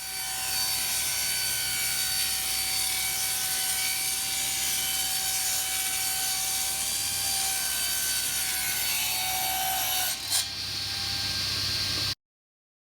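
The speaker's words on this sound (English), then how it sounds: "The last milling process was to remove the bullnose edge." A milling machine cuts the bullnose edge off wooden dining table boards, a steady loud abrasive whir and rasp lasting about ten seconds before a brief knock and cutoff, with no voices.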